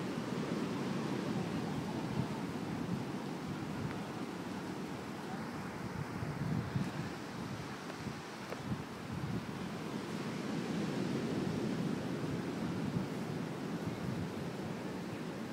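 Surf breaks steadily along a Costa Rica ocean coast, a continuous broad wash of waves with wind noise over the microphone, no voices, on a walk as overcast weather sets in.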